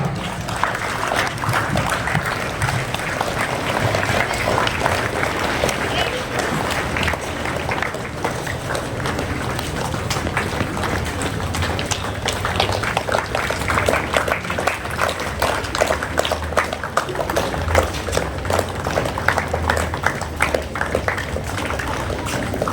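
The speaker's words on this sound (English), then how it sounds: "I request you all to welcome them with a round of applause." An audience applauds steadily as dignitaries walk toward the stage at an Independence Day celebration with flag hoisting and a cultural program. The dense clapping holds at an even level for over twenty seconds with no pause.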